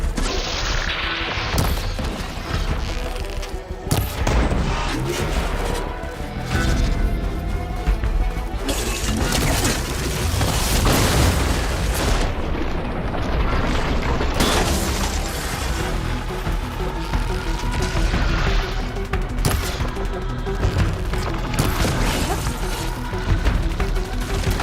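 Heavy ballista shots and impacts during combat in the video game Horizon Forbidden West, a loud, dense stream of crashes, thuds and booms packed closely together over a constant bed of battle noise and music.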